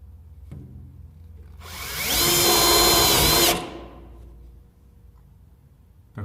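A power drill drives a self-tapping metal screw into a steel profile while drywall is mounted for a kitchen ceiling box. A single loud, steady whir rises, runs about two seconds and stops, with quiet room noise before and after.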